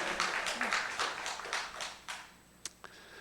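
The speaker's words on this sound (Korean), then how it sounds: "우리 하나님께 영광의 박수를 돌립니다" A church congregation at a Sunday service claps in praise, a soft, fairly distant group applause with a loose rhythmic pulse that fades out, ending in a few isolated claps.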